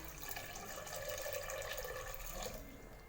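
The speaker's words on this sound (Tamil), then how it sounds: "மட்டன் வேகிற அளவுக்கு தண்ணி ஆட் பண்ணிக்கோங்க." Water steadily pours into mutton in a pressure cooker for a Tamil mutton curry, a continuous close splashing stream that runs for about three seconds with no talking.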